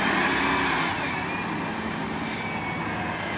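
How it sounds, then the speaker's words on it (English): A bus drives toward the garage at a transportation center, its engine producing a continuous broad rumble that starts louder and eases slightly as it moves off. "Another bus going to the garage."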